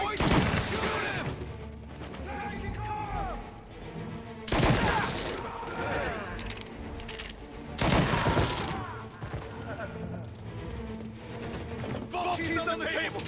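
Gunfire bursts from the video game Mafia Definitive Edition, with loud repeated shots spiking around the start, four and eight seconds amid a dense, busy mix, while voices shout over the action.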